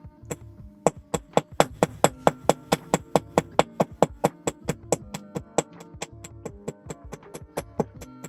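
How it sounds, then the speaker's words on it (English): Hammer striking metal to flatten it along marked lines in a small workshop, a steady run of sharp, close ringing blows about three per second with no talk. "That's where I'm going to hammer it to."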